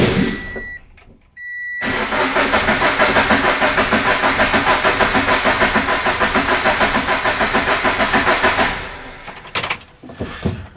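A flood-damaged Scion FRS engine cranks without starting: a brief click, then about seven seconds of loud, rapid, rhythmic starter churning that stops abruptly, followed by a few faint knocks.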